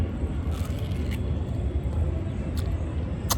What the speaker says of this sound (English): the sound of busy traffic. Typical busy traffic in Kinshasa.